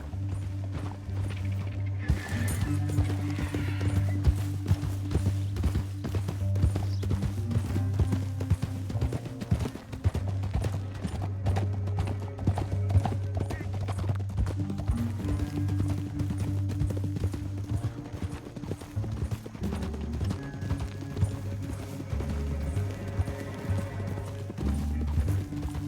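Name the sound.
horse hooves in a video game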